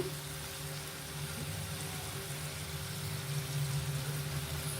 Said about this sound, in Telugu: ఇలా ఇంకొంచెం వేగాలి ఇలా ఈ కలర్ రావాలి ఉసిరికాయలు వేగిపోయాయండి